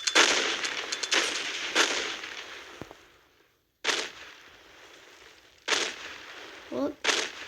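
Mines detonate in a Minecraft Bedrock mod, giving several abrupt blasts with short noisy decays spread across the stretch, one after a brief silence, while a voice talks at times in between.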